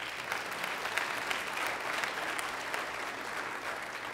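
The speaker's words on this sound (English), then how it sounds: "Let's give them a round of applause." Steady applause from a church congregation during a service, a dense, even patter of many hands clapping continuously at moderate distance with no voices over it.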